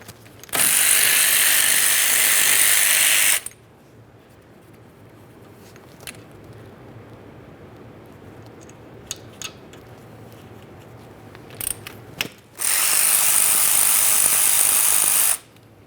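Close, loud bursts of rapid ratchet clicking come from a 12mm socket backing out the caliper slider bolts on a 2007–2013 Acura MDX. Two long runs are separated by quieter handling clinks.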